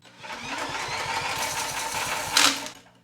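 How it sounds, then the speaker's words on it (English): A power tool whirs steadily while a ratcheting adapter on a turning engine chatters with fast clicking, ending in a brief louder rattle as it winds down. "Listen for that ratchet."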